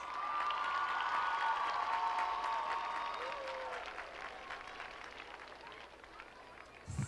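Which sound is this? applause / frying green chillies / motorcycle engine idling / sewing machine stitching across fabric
applause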